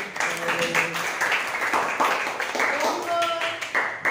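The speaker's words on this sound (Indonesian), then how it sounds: "beri tepuk tangan buat si Resti" Classmates clap for a student in a school mathematics lesson, a scattered round of hand claps running steadily through the whole stretch with voices talking over it.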